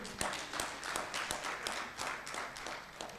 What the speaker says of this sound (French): ça s'acclame, ça s'applaudit